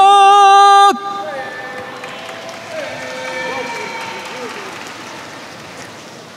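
At an MMA event, a sustained tonal blare cuts off into a broad roar of crowd applause and cheering that fills the arena, with an announcer's voice talking over it.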